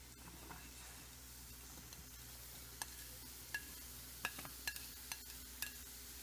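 Ground beef and vegetables sizzle in a hot skillet with a quiet, steady frying hiss, broken by a few sharp pops and clicks from spatter and utensils, close up and with no talk.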